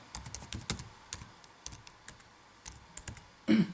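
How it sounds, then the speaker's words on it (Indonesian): Fingers typing on a computer keyboard in quiet bursts of irregular clicks, with a louder cluster of key presses near the end, close and faint with no voices. "Kita berarti ketikkan jumlah."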